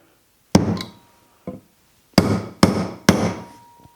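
Four sharp, loud blows of a Stiletto titanium hammer striking nails into a 2x4 board, with an isolated first hit, a lighter tap, then three strikes in quick succession, each ringing briefly before fading.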